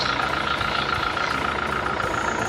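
A 2011 Hyundai i20 diesel engine idles steadily in good condition, a continuous close hum with a faint whine, no talk over it.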